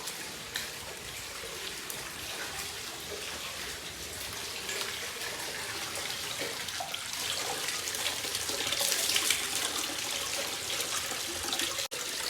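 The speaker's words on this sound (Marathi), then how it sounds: "हे गोमुखातून पाणी येतं" Steady rushing water pours and splashes continuously from a stone cow-mouth spout at the Godavari source on Brahmagiri, fairly close, with a broad hiss that swells slightly toward the end; no voices.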